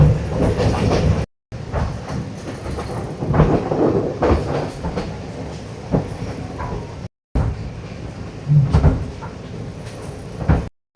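A train rolls along rails cut through hillsides among Sri Lankan tea estates on a mountain line, giving a steady broadband rumble with rhythmic clatter and creaks. The sound drops out briefly twice.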